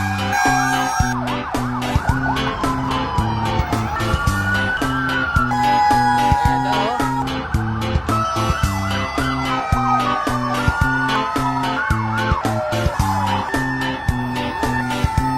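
A wailing fire truck siren rising and falling repeatedly, loud and close, over a pulsing rhythmic background.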